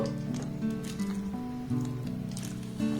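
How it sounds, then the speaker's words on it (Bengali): Semolina with salt and cardamom is stirred in a pan into a tight dough, giving soft squishy, sticky scraping sounds at close range over a low steady hum. "এবার এটাকে কন্টিনিউ নাড়াচাড়া করতে করতে একটা টাইট ডোতে পরিণত করে নেব।"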